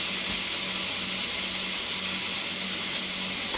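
Steady, bright sizzling hiss of a burger patty frying on a hot Ninja Foodi electric grill, continuous and close, with no talking.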